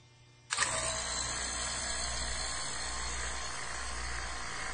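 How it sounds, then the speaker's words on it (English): A vacuum pump switches on abruptly and runs steadily, pulling air from a bell jar in a freeze-by-boiling demonstration, producing a loud continuous hiss and low mechanical drone after a quiet start. "Now that the vacuum pump is on"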